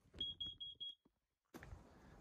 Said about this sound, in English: smoke detector up high took 28 seconds to set off